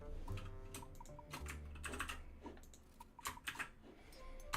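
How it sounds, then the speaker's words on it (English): Fast, close clatter of typing on a computer keyboard, irregular bursts of key presses running continuously at a fairly quiet level. "And then get typing."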